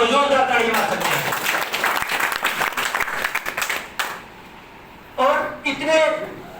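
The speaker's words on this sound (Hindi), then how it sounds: "सभी लोग अपने लिए क्लैपिंग करो, जोरदार ताली मार सकते हैं।" An audience at a motivational seminar in a hall claps loudly for about four seconds in dense, rolling applause, then goes quiet before a second short burst of clapping under a speaking voice.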